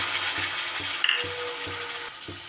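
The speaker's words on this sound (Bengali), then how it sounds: "আর এই তেলের ওপরেই এবার দিয়ে দেব যে মশলাটা পেস্ট করলাম সেই মশলাটা" Spice paste for a spinach dish sizzles and fries in hot oil, a steady close hiss with a few soft stirring scrapes and a brief clink partway through.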